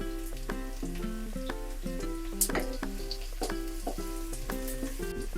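Green chillies and red chili powder sizzling with browned onions in hot oil for a Punjabi kadhi pakora, a steady close frying crackle with faint stirring clinks throughout.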